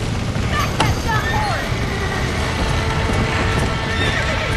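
Horse neighs with a whinny and steady clip-clop hooves in the Red Dead Redemption video game, layered under continuous game ambience and a voice talking over it.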